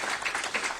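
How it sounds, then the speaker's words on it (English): Brief, steady clapping from an audience at an economic talk, moderately loud and diffuse, with no distinct individual claps. "Please, let's give him a clap."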